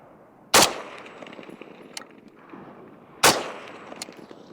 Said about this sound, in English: we're just gonna shoot a couple rounds. I got steel at 100 yards